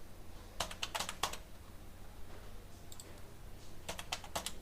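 A computer keyboard is typed on in two short bursts of quick clicking keystrokes while a password is entered, close and fairly quiet over a low background hum, with no talking.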